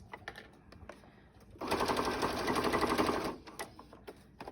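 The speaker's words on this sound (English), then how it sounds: "this happens to be going back and forth because it is double stitching for me" A sewing machine runs in a steady burst of about two seconds as it double stitches back and forth along the edge of a fabric face mask. Quieter handling noises from the table come before and after it.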